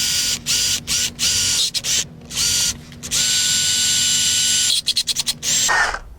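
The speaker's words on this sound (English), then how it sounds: "just going to drill our holes all the way through" A power drill whines in repeated bursts, starting and stopping several times, then runs continuously while boring holes through a metal swing arm tab protector, close and loud.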